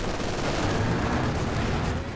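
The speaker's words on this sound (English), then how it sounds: "Huge close range barrage though" An artillery barrage in Company of Heroes 2 lands at close range as a dense, continuous roar of overlapping blasts and rumbling impacts. It stays loud and even with no pauses, and no voice is heard.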